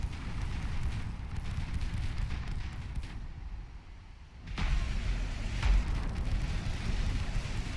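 Warship guns fire in a naval battle in the video game Ultimate Admiral Dreadnoughts, deep rumbling booms over a continuous low roar, with a sharp blast breaking a brief lull and another heavy thud shortly after.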